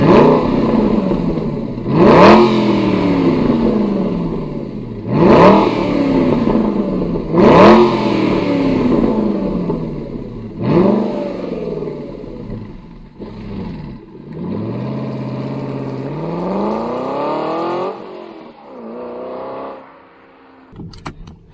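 Hand-built 4.7-liter V8 dual overhead cam engine of a 2015 Aston Martin Vantage GT revved repeatedly. Several sharp blips rise and fall, followed by longer sustained revs that sweep up and settle back to idle, heard close and without talk.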